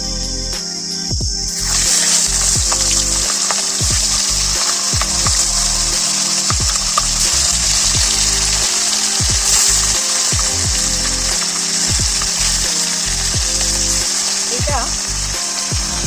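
Fresh fish pieces fry in oil in a pan, a loud continuous sizzle with spattering crackles and occasional utensil scrapes, running steadily after the fish goes in.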